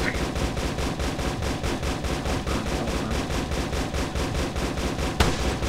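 Heavy artillery and gunfire from the Toy Plane Heroes VR multiplayer dogfight game rattle in rapid, evenly spaced bursts for several seconds, loud and continuous, with one sharper crack near the end.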